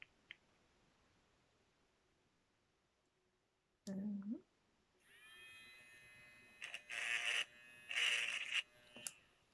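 A small electric manicure device spins up with a high, steady whir after a brief handling noise, rising in bursts and settling, close and moderately loud.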